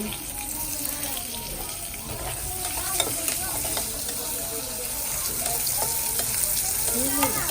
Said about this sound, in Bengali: এখন আমি দিয়ে দিচ্ছি পেঁয়াজ কুচি